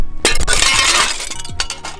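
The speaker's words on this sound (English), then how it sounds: "Did shoot the glass, now it's time to kick it" A glass window shatters from a kick, filmed in ultra slow motion, with a loud burst of breaking glass followed by clinking, tinkling fragments that fade over about two seconds.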